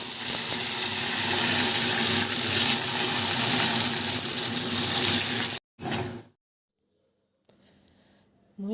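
Tap water runs steadily into a kitchen vessel while cut potatoes are washed for home cooking, a loud continuous gush for several seconds that cuts off abruptly, followed by near silence and faint handling noise.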